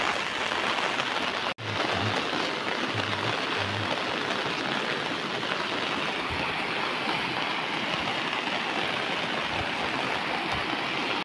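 Heavy monsoon rain in the Konkan region pours down steadily, a dense, continuous roar of water hitting surfaces like a rushing stream, loud and unbroken except for one brief cut near the start.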